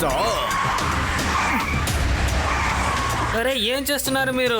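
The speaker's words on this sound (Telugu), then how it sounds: "నేను బ్రేక్ వేయకపోయి ఉంటే ఏవైందో తెలుసా?" A car brakes hard and its tyres skid in a long, loud, rough smear of noise, then a voice shouts sharply as the skid dies away.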